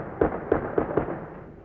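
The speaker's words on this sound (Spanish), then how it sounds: "Se escuchan también algunos disparos de armas de fuego." Four sharp gunshot-like bangs at irregular intervals, fairly close, echo through an open street during clashes between protesters and police and army, with no one talking.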